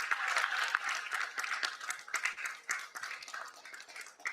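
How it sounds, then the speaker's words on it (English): A conference audience at a forum applauds warmly, with continuous dense clapping from many hands sustained at an even level from start to finish. "Let's keep clapping as he comes up."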